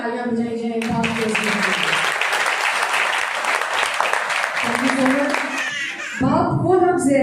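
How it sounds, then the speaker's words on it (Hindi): Loud applause from an audience at a Father's Day program swells in after a voice, many hands clapping steadily for several seconds before her speech resumes over the fading claps. "मैं चाहूँगी कि एक बार जोरदार तालियां बजाई जाएं बाप के"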